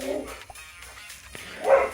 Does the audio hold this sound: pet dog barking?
yes